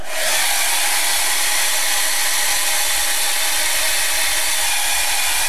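Hair dryer running steadily close by to dry paint on an art journal page, a continuous loud airy whoosh with a faint motor hum, unbroken for several seconds with no talk.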